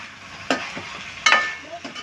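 Potato chicken curry frying in a pan, with a steady low sizzle and a few sharp stirring scrapes, close and fairly quiet.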